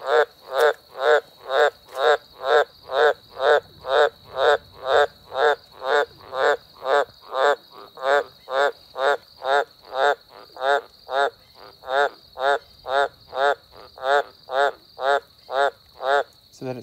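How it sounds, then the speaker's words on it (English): Green tree frogs croak from the bottom of a dam with water, a steady rapid series of loud, regular pulsed calls repeating about twice a second, close by, with faint insect buzzing behind. "Now there he is, little green tree frog."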